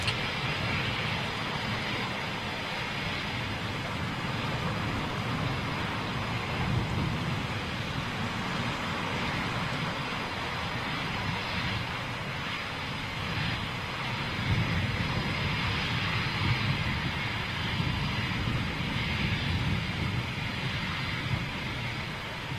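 A Eurofighter Typhoon jet rolling out on the runway at RAF Coningsby while aero braking, a sustained broad engine roar heard from a distance, steady and moderately loud throughout with no speech.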